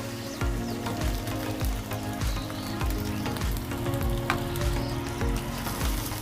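Cumin, onion paste, ginger-garlic paste, salt and turmeric fry in hot oil for a vegetable cutlet, giving a steady, loud sizzle with repeated soft stirring scrapes throughout and no talk.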